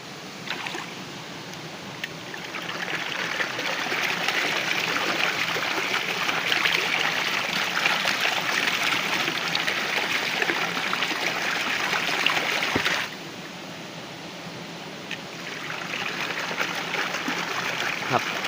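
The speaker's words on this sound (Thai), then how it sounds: "ก็คือลิ้นปิดไม่สนิทนะครับ มีน้ำรั่วออกมา" Water sprays and trickles steadily from a hydraulic ram pump whose valve fails to seal, probably clogged with algae, a constant close hiss that briefly drops and then resumes, with no talk.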